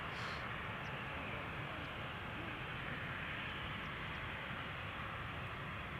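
An Air India Airbus A350 airliner at Amsterdam Schiphol Airport produces a steady, broad engine roar with a constant rumbling hum, heard from a distance and unbroken for the whole stretch.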